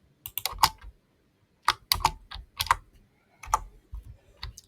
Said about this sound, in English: So I'll just type in the variable page size